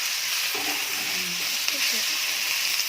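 Tomatoes with salt and turmeric being stirred in a pan for an Assamese fish dish, a steady soft sizzle and hiss with faint scraping of the spoon.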